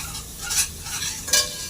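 Soft frying of a tempering in a pan with occasional stirring scrapes, two brief brighter bursts standing out over a steady low sizzle.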